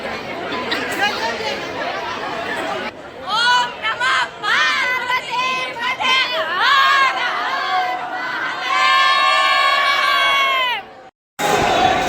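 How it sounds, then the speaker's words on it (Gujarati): Dense crowd chatter at a busy temple with a long queue for darshan at Nageshwar near Dwarka, with many overlapping voices, children shouting and brief cheers, loud and close throughout before cutting out near the end. "બહુ ભીડ છે દર્શન કરવા માટે।"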